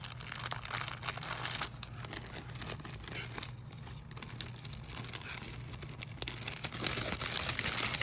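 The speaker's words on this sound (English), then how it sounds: "So first let me open this little bag that she included." A small plastic gift bag being opened and handled, with continuous close crinkling and rustling that runs the whole time and swells louder toward the end, alongside a steady low hum.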